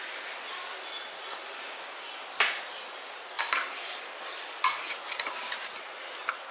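Onions and goat meat sauté in a pan for goat rib bone soup, giving a steady, close sizzling hiss broken by several sharp scrapes and clinks of a spoon stirring against the metal.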